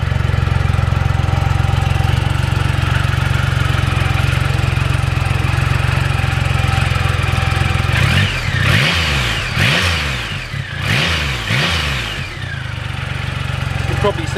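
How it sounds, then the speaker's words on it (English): A motorcycle engine idles with a steady rumble, then revs up several times in quick, loud bursts and drops back, close by, with the bike rocking on its stand. "just revving the engine, the bike rocking from side to side"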